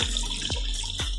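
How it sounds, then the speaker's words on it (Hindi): Water pours from a glass into a pan of spicy chicken gravy, a steady splashing rush with a couple of brief knocks, close and moderately loud. "अब हम इसमें ऐड करेंगे वाटर।"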